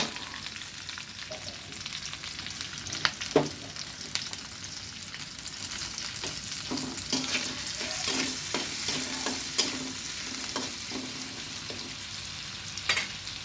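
Close sizzling of onions and chilies frying in oil, with repeated scraping and stirring clatters of a utensil against the pan.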